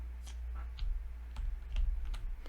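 A few faint computer keyboard key presses while playing a card game in Tabletop Simulator: soft, separate clicks spaced across a couple of seconds in a quiet room.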